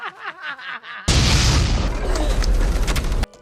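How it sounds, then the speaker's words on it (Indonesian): After a moment of narration, a sudden loud explosion of leaking nitroglycerin in a film booms and roars, its rumbling blast filling the rest of the clip before cutting off abruptly. "Malcolm dan Karim tewas karena ledakan tersebut"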